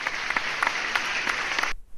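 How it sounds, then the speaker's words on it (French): Applause rings out behind someone doing science experiments at home, a dense steady patter of many hands clapping that cuts off abruptly near the end. "Applaudissements derrière moi."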